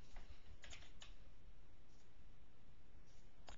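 Keys on a computer keyboard being typed in a quiet room, a few soft clustered clicks standing out against steady low background hiss, with no voices.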